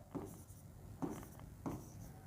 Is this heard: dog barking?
no